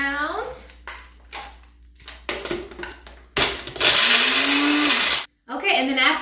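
A kitchen blender crushing crumble for a strawberry crunch cheesecake: short pulsed whirs, then a long loud grinding run that cuts off abruptly before another brief pulse, close up, with a voice speaking between bursts.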